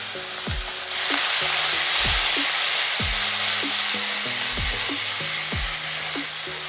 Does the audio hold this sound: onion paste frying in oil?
yes